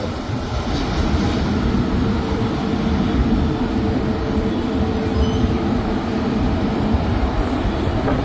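A US-Bangla Airbus A330 airliner touching down, heard as a continuous broad roar of engines and rushing air that stays loud and steady from start to finish.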